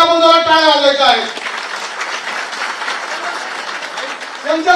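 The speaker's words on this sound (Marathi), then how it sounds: "माननीय एकनाथजी शिंदे साहेब यांच्यासाठी आपण जरा टाळ्या वाजवायच्या आहेत" Crowd applauding for Eknath Shinde at a Shiv Sena political rally in Nashik, a loud wash of clapping that follows a man's amplified speech and fades as his voice returns.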